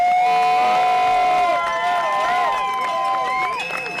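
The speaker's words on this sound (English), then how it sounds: "The crowds just keep getting louder and louder." A crowd cheers and whoops as a runner finishes the High Lonesome 100, a 100-mile trail race; shouts and cheers layer together continuously under a loud, busy mix, with some voices talking.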